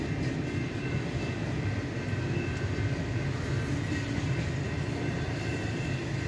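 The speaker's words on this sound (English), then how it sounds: "So when the train clears," A train passes during a thunderstorm, giving a steady, moderately loud rumble and rolling rail noise that continues unbroken with no voices.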